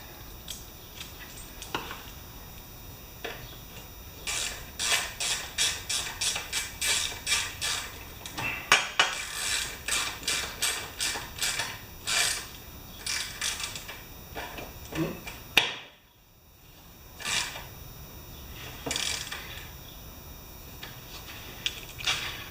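Oil drain plug being screwed back into a Briggs lawn mower engine, heard as a close run of rapid metallic clicks and ratchet-like ticks in bursts, then a brief clunk and quieter handling sounds.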